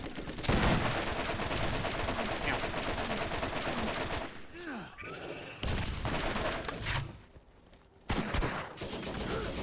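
Machine gun fire in the Borderlands video game, long sustained automatic bursts broken by short pauses, loud and dense throughout.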